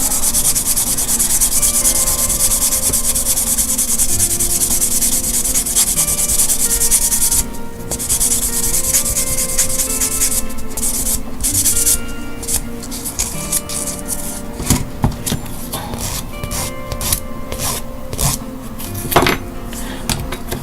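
Acrylic dip nails being filed and buffed with a 100/180 grit buffer, a continuous close rasping rub with brief pauses and quicker strokes later, alone without talk.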